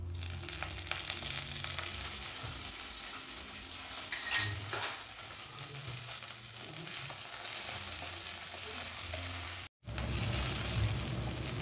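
Cumin, mustard seeds, dried chilli and curry leaves sizzle and crackle steadily in hot oil in a pan, a loud continuous frying hiss with occasional pops and utensil clinks, briefly cutting out near the end.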